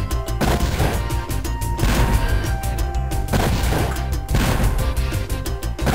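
Cannons fire in the Spyro 2: Ripto's Rage platform game: heavy, repeated booms land roughly every two seconds, loud and close over a continuous musical backdrop.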